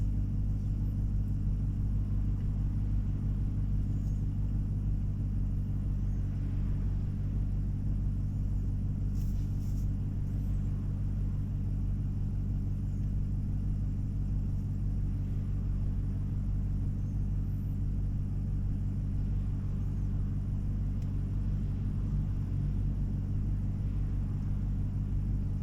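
A 2016 Dodge Challenger Hellcat idles with a deep, steady low rumble that holds at an even level throughout, with no talking.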